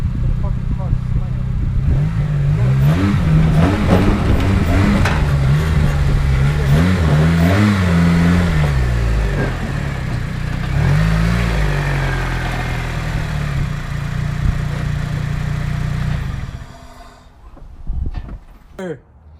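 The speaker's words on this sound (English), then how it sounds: "You heard that? That was VTEC." A Honda hatchback with a freshly swapped K-series engine revs hard and holds high rpm, its loud engine note rising and falling over several pulls before dropping away, with people talking nearby.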